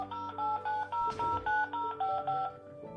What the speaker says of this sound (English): if you want to make call, you just pick up and dial the number